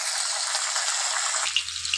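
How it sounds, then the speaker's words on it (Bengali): Continuous bright sizzling of pabda fish frying in hot oil in a kadai, steady and close, with no talking. "তেলটা গরম হলে মাছটা দিতে হবে"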